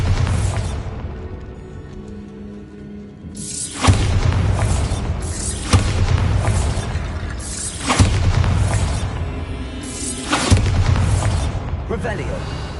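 Repeated Bombarda spell blasts in Hogwarts Legacy, four loud booming explosions at roughly two-second intervals, each with a sharp crack and rumbling tail over a steady game soundscape.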